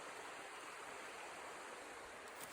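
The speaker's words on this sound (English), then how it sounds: "And then there's the river right down there." A river flows nearby in the woods during a herp-hunting trip, a steady broadband wash of running water that fills the whole moment without pause or voices.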